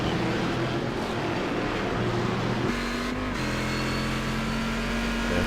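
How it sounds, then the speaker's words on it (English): Onboard engine of a GT race car in a racing simulator game at Twin Ring Motegi, a loud continuous drone whose pitch holds, then shifts with gear changes and acceleration, filling the whole stretch without talk. "just listen to the car, it just sounds important."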